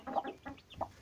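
A small hen with twelve chicks, some feather-legged and some not, gives three soft, close clucks in quick succession, with no talk over them.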